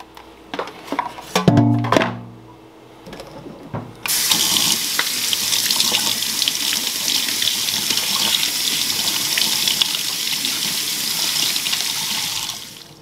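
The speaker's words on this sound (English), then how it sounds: "Cleaning is very simple. Just want to rinse it underneath the water," A Fluval FX6 canister filter impeller is rinsed under a running tap: a few clinks and handling knocks first, then a steady, close rush of faucet water streaming over it until the end.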